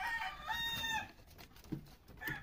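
A rooster crows nearby, a long strained call followed by a few short clucking notes from the bird.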